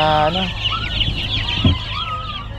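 Chickens clucking close by, with a brief crowing call at the start and scattered squawks over low farmyard background noise.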